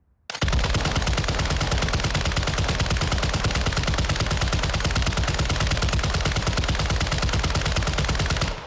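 RAL machine gun in Warzone 2.0 firing one long uninterrupted burst, a loud, rapid, steady stream of shots with no pauses for several seconds.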